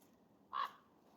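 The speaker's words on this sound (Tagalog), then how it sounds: "Oh, laki na ibon." A single loud, harsh caw from a big crow-like bird in a forest, brief and clear against a quiet background.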